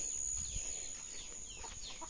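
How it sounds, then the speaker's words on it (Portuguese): Chickens on a farm give faint scattered clucks and chirps in an outdoor setting, with a steady high insect-like whine behind them and no talking. "Nossa, tá cheio de galinha aqui, ó."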